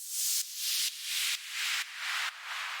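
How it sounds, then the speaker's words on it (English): White noise from an Operator synth sweeps through a bandpass filter in a string of hissy bursts of about half a second each. The pitch of each burst shifts as the filter moves. Soft and clean, with no voices. "The next sound I have here is this white noise"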